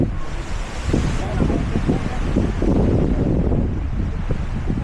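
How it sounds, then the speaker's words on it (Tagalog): Wind gusts across a mountain viewpoint deck, buffeting the microphone with a loud, rough rumble that ebbs and surges. Voices sit faintly beneath it. "It's windy."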